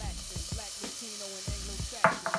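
Onion added to melted butter and oil in a pot, frying with a steady sizzle while it is stirred, with scraping and clinking of a utensil against the pot, close and fairly loud.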